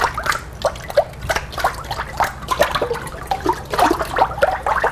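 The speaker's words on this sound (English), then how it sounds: "you slosh the frames to make papers" Water sloshes back and forth in a papermaking frame, making repeated splashes and gurgles in a steady rocking rhythm, close and fairly loud, with no talking.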